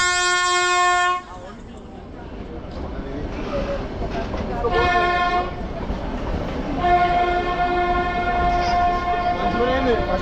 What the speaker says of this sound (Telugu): ఫైనల్లీ మేము పోయే ట్రైన్ వచ్చేసింది.